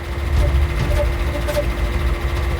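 A steady mechanical hum and rumble of a running electric motor, continuous and fairly loud, with faint voices underneath.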